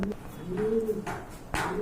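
Pigeons coo at a pigeon farm near Hatimara College in Kashimpur, Gazipur, with several low, rolling coos overlapping close by amid a faint bustle.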